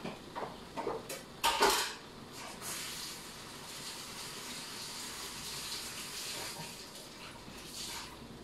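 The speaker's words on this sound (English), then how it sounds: "Wash my hand, wash this." Running tap water with hands splashing and rubbing in brief bursts early on, then a steady, faint flow of water continuing alone.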